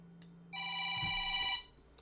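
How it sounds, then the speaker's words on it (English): A phone rings once with a bright electronic tone lasting about a second, fairly clear against a quiet room with a soft thump partway through. "Oh, my phone."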